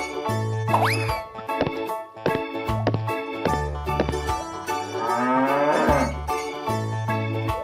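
A cartoon cow moos in one long, drawn-out low call amid bouncy musical tones and boing-like effects from a children's animal cartoon.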